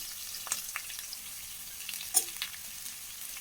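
Sprouted gram fries faintly in a pan with a soft, steady sizzle and a few light scraping stir sounds.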